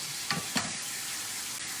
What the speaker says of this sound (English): That's going to just sizzle right up.